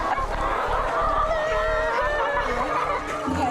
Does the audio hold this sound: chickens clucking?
yes